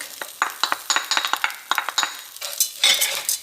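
Garlic sautés quickly in a pan while a utensil stirs it, giving a rapid series of sharp metallic clinks and scrapes over a light sizzle, close and fairly loud.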